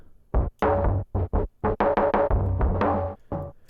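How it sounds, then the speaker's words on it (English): A gritty drum loop with tape distortion, trip hop style, with punchy, uneven hits and dense mid-range crunch, playing close and loud with no talking. "Put some tape distortion on there."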